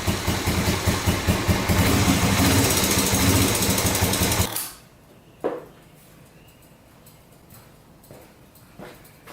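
A 4x4 ATV engine idles loudly and steadily for several seconds, then cuts off, leaving quiet background with a few faint knocks.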